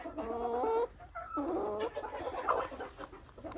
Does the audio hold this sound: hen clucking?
yes